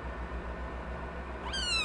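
A single cat's meow rises sharply near the end, clear and fairly close, after a low steady hum of room noise.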